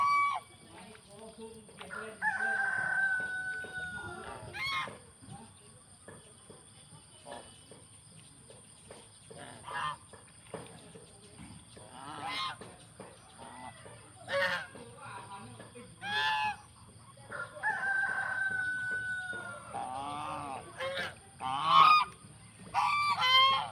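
Geese, ducks and chickens call repeatedly on a farm in the morning, with honks, clucks and a rooster's crow rising in bursts over a steady background of crickets and faint distant noise.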